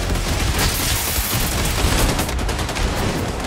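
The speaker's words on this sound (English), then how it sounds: "Polite of you to actually tell me when you're going to start firing missiles." Missiles and heavy weapons fire in Wolfenstein 2, a dense, loud, continuous barrage of blasts and rapid gunfire with booming impacts, heard without talk.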